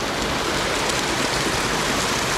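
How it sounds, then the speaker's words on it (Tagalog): Steady rushing water from a countryside stream in a rural province setting, a dense continuous splashing hiss at close range with no talking. "Ingay ng tubig."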